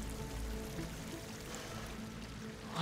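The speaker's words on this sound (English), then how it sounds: "Water's coming in." Water pours in underground during a Horizon Forbidden West cut scene, a dense, steady rushing gush that fills the space evenly, fairly loud and unbroken.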